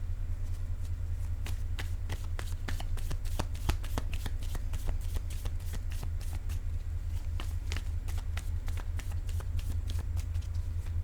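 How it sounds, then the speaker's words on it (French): Playing cards shuffled and laid down one after another, a steady run of crisp riffles and soft slaps close by over a constant low hum, with no talking. "Je vais peut-être déposer une carte sur elle"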